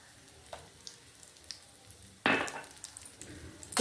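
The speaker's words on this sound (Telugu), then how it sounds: "జీడిపప్పు కొంచెం ఫ్రై అయింది కదా, ఇప్పుడు కిస్మిస్లు కూడా వేసేద్దాం." Cashews and raisins frying in oil in a pan while making jaggery paramannam, a steady close sizzle with light crackles and a sudden louder burst of hissing as more go in.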